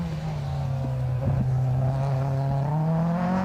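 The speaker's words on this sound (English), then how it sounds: "I can hear another car off the start line from the office here." At the Harlech stages, a rally car leaves the start line and is heard from a distance, with a steady engine tone that holds and then rises slightly as it pulls away.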